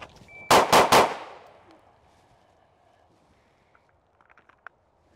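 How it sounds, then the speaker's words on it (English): Three loud pistol shots fired quickly in succession at a target on a shooting range, close and sharp, followed by quiet with a few faint clicks and rustles. "I'm gonna pull up, gonna go 3 shots to the A zone."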